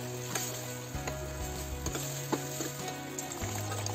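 Boiled dal tipped into a pan of hot spiced masala for restaurant-style Punjabi dal makhani, giving a steady close frying sizzle with occasional stirring clicks and scrapes throughout, no talking.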